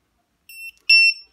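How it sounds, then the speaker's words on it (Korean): Shrill electronic beeps from a LiPo battery alarm on a racing drone, two short high-pitched tones in quick succession, close and loud with silence around them. "손쉽게 확인할 수 있는 리포 알람 이렇게 되었습니다."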